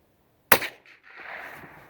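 A CZ 455 .22 LR rifle fires a single sharp, close crack outdoors at a shooting range, followed by a short fading echo and faint rustling.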